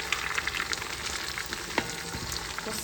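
Horse meat fries in a pot over browned onions for plov, giving a continuous close sizzle broken by a few soft stirring scrapes, with no voices.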